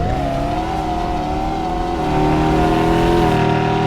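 A Beetle car in Roblox Drive World cruising at its top speed: a loud, steady, droning engine hum holding one pitch and stepping slightly higher midway, continuous and close with no talk.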